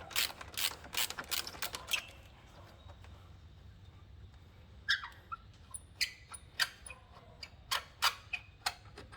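A ratchet wrench loosens the brake caliper bolt on a Honda Forza 300/350 scooter, giving quick bursts of sharp mechanical clicks, close and clear, separated by quiet gaps.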